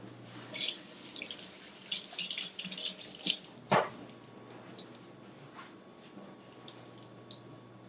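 Tap water runs into a kitchen sink as a bunch of cilantro is rinsed under it, a close, splashy gush that rises and falls in bursts, then thins to intermittent trickles and drips.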